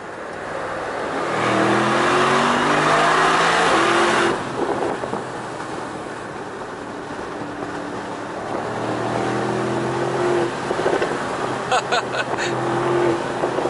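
Mercedes SL 63 AMG engine revving while driving, a deep loud growl rising and falling through several rev sweeps, close and continuous, with brief clicks near the end.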